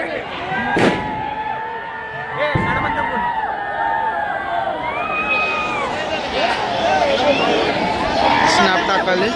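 Firecrackers going off in the street during a celebration of India's T20 World Cup cricket win, sharp bangs early on under loud crowd chatter and shouting voices.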